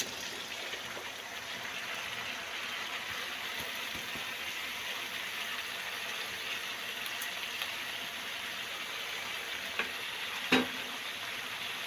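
Mixed vegetables fry with black pepper in a pan, giving a steady, fairly quiet sizzle throughout with a couple of brief clinks near the end.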